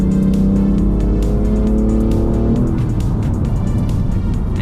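A previously flooded BMW M3 with a suspension fault revs on a downshift, its engine note climbing then dropping, loud and close, with continuous road and tire noise.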